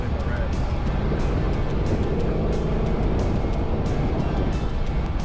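A plum Dodge Challenger muscle car on a single-lane road, its engine a loud, steady low roar throughout, heard close as it drives past.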